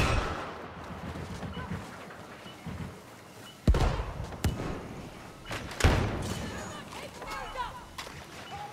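Grenade blasts in Star Wars Battlefront II, with two heavy booming thuds a couple of seconds apart rising out of ongoing battle noise, while voices speak around them.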